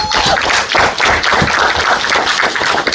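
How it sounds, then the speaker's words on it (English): Scattered audience clapping at a youth climate conference, uneven and fairly close, with a few louder claps and soft thuds over about three seconds. "So clap for us on that one."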